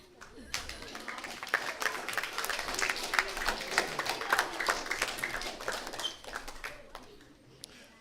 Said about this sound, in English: Please leave the applause until the end.